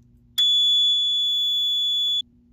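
A Fire-Lite MS-4424B fire alarm control panel, on system reset, gives one loud, steady, high-pitched electronic tone lasting nearly two seconds before cutting off, with a low hum underneath.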